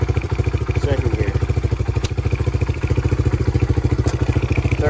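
A Honda 300EX ATV engine chugs in gear with a steady rapid pulsing beat, loud and close throughout, with a brief mechanical clack in the middle.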